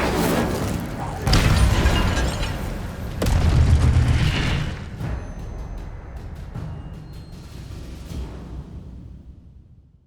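Incendio fire spell blasts in Hogwarts Legacy go off as heavy, booming bursts, two strong hits a couple of seconds apart followed by smaller crackling pops that trail off, with voices faintly present underneath.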